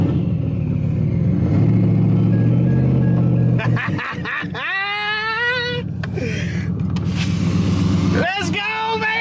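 Twin-turbo 2023 Ford F-150 pickup with a TH400 transmission swap, its engine droning steadily before sharp revving bursts with rising whines and turbo squeals, loud and close throughout.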